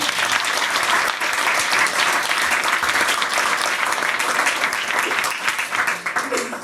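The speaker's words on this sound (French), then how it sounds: "Un petit applaudissement pour eux, s'il vous plaît." An audience applauds in a hall after a gesticulated lecture, dense continuous clapping from many hands at fairly close range, holding steady for several seconds before thinning slightly toward the end.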